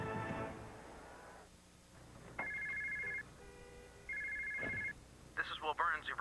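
A cell phone rings twice in long electronic bursts, loud and close, with a voice talking at the start and more speech sounds near the end.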